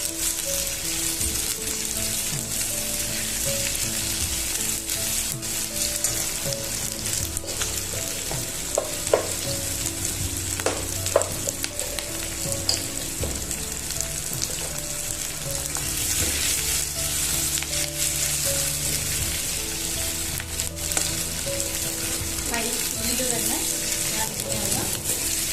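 Chilli prawns fry in a pan with a constant close sizzle, punctuated by occasional scrapes and clinks of stirring.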